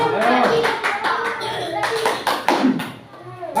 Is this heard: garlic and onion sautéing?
no